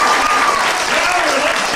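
An audience applauds during a water-themed magic show, giving a dense, roaring wash of clapping and cheering. It holds steady and loud through the whole short stretch, with a whistle-like tone running faintly through it.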